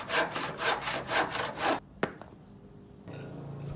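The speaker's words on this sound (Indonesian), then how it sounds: "selanjutnya aku bawa ke meja potong untuk dipotong menggunakan gergaji" A hand saw cuts through wood on a cutting table while building a wooden pot extension. It gives a steady, rhythmic run of rasping strokes that stops abruptly, followed by a sharp knock and quiet handling.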